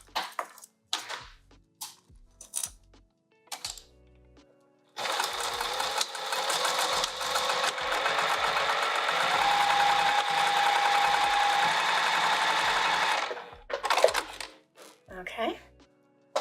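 A sewing machine stitches a vinyl sling bag in one steady run of about eight seconds, fairly close, with scattered handling clicks and taps before and after.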